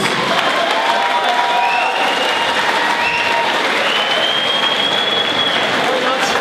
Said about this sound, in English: can we have a massive round of applause for both fighters, please?